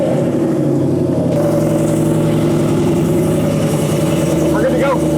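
A 2005-2014 Ford Mustang S197 engine runs at a steady idle through newly installed over-axle exhaust pipes with the resonator deleted, a loud continuous low rumble close by for the whole stretch.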